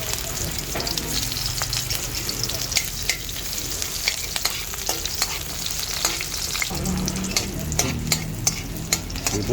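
Pork fries in canola oil in a pan with a loud, constant sizzle and crackle. Frequent sharp pops and occasional stirring scrapes sit close up, with no talking.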